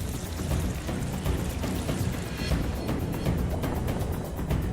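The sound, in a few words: water poured from 3-litre vessel into 5-litre vessel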